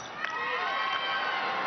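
Arena crowd at a women's basketball Olympic qualifying game between home team China and New Zealand reacts to an offensive foul call, a loud sustained roar of shouting and jeering voices filling the hall with no clear single speaker.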